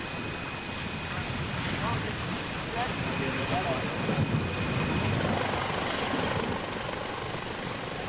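A helicopter flies during a naval casualty evacuation exercise, its steady rotor drone a constant loud wash mixed with wind and sea noise, with faint voices underneath.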